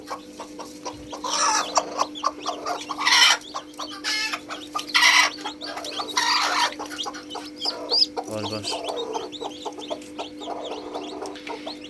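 A hen with her newly hatched chicks in a brooding setup, soft repeated clucks mixed with a stream of high thin peeping from the chicks, close by over a steady low electrical hum.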